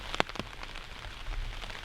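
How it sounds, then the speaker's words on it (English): Light rain falling outdoors during a hunting trip in Ohio, a soft patter of scattered drops with a couple of sharper nearby taps early on, quiet and close with no talking. "You know, it's raining, but not super hard."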